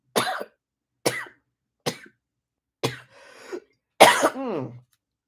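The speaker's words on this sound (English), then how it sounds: "Oh goodness, this cough is ridiculous." Five harsh coughs in a row, spaced about a second apart, close and loud, the last one followed by a short strained vocal groan.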